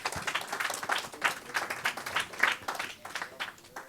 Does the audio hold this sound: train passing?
no